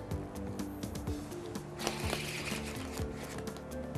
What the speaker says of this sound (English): I'm just shuffling from the one of the corners